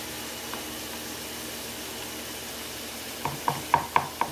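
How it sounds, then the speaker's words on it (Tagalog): Chicken and vegetables are stirred together for a pizza topping, starting with a low hiss and then a quick run of five or six sharp utensil knocks near the end. "I-mix ko na guys yung chicken at saka gulay."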